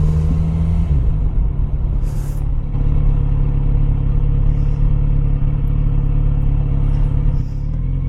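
A motorcycle rolls slowly in first gear through the Giant Forest tunnel log in Sequoia National Park, its engine a steady, loud low rumble with slight shifts in pitch, close to the listener.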